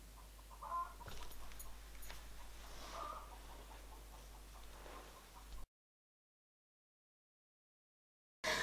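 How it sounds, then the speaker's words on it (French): Hens clucking after laying an egg, faint and distant with a few scattered calls over quiet background before a gap of silence. "Il y a d'un coup les poules qui ont fait du bruit."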